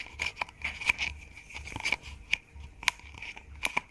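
Scissors snip quickly through ribbon for a homemade hair bow, a run of sharp, close cuts coming in uneven bursts, with a few louder snips standing out.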